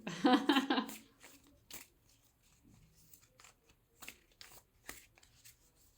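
Tarot cards riffle in a loud burst, followed by softer scattered taps and flicks as the deck is handled up close.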